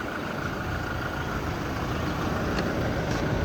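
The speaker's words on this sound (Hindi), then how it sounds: "कार स्टार्ट है, आप इंजन साउंड भी सुन सकते हो" A 2025 Toyota Hilux 4WD Black Edition with a 2.8-litre diesel idles with a steady low rumble and clatter, heard close and continuous with no voices.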